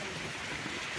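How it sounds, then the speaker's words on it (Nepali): Rain falling beside a river, a soft continuous hiss of drops with no distinct pattern, faint and even from start to finish. "अब चाहिँ हाम्रो यहाँ पानी पर्न थालिसक्यो पानी पर्नु थाल्यो"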